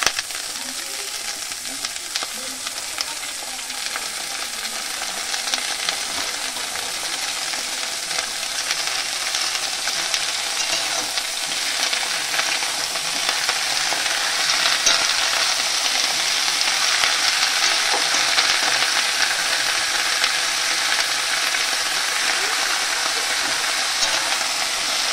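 Spinach frying in a pan with onion and garlic, a loud continuous sizzle and hiss that holds steady throughout with no talk.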